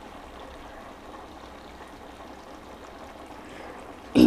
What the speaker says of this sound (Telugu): ఇంకొంచెం నూనె పడుతుందండి